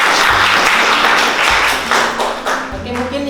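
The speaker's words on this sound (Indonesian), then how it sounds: "Kita beri aplaus untuk ini." Classroom applause for a student's quiz answer at a nursing academy in Medan, a short burst of clapping from a small group, loud and close, fading after a few seconds.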